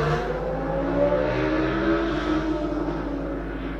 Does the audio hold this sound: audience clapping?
no